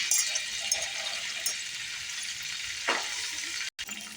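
Cumin, mustard seeds, green chillies and soaked chickpeas sizzling in hot oil, a steady close crackling hiss with a few stirring scrapes and no talking.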